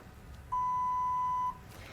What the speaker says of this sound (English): scan the medical instrument tag into the Accutrace RFID reader until you hear a beep